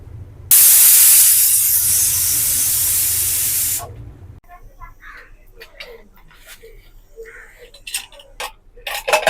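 A pressure cooker cooking goat meat lets out a loud, steady hissing whistle for about three seconds, then cuts off, leaving faint kitchen clatter and quiet talking.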